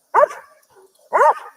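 A dog gives two sharp, close barks about a second apart, with near silence between them.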